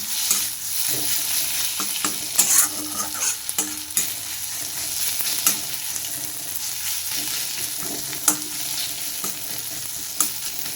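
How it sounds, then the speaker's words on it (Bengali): Fish coated in spice paste is stirred in a sizzling frying pan, a continuous loud fry with repeated scraping and clacking of the spoon against the pan. "এটাকে এবার ভালো করে নাড়িয়ে দিয়ে মশলার সঙ্গে মাখিয়ে নেবো"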